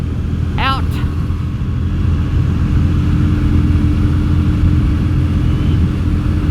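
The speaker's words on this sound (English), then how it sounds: "You just warm the bike up to operating temperature on an XV250." A Yamaha Virago XV250 motorcycle idles steadily at operating temperature during carburetor tuning, with pod filters and a drilled setup, giving a constant low rumble throughout and a brief rising rev near the start.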